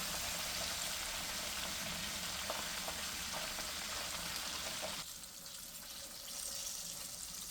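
Chicken pieces deep-frying in hot oil for a KFC-style recipe, a dense steady crackle and sizzle that drops slightly in intensity near the end, heard alone with no talk.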